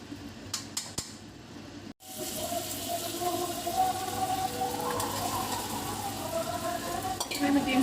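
Ground spices for a curry sizzle and fry in a pan while being stirred, a steady close hiss with scraping pan noises, beginning after a brief clatter and pause.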